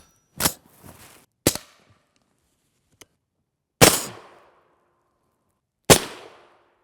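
M855 62-grain rifle rounds fired from a 10.5-inch short-barreled rifle at an armor plate: four loud, sharp shots spaced a second or two apart, each with a short decaying echo, plus a faint tick between them.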